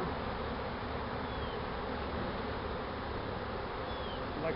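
A dense, unbroken hum of a honeybee swarm circling a hive box, near and uniform in level from start to finish, with no voices.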